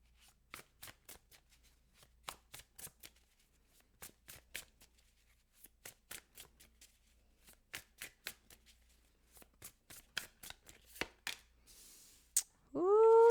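A deck of tarot cards is shuffled in quick, crisp riffles, dozens of close snaps in steady bursts, ending with a short higher sound.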